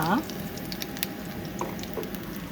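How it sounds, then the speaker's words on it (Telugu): Soft sizzling with scattered small pops and crackles of mustard seeds spluttering in hot oil with garlic, with a brief voice at the start. "ఆవాలు కొంచెం చిటపట మళ్ళిన తర్వాత"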